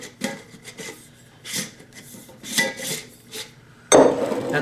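Dehydrated carrots, then leftover dried corn, pour into a jar. Dry pieces rattle and skitter in uneven bursts up close, ending in a louder, denser rush of pieces near the end.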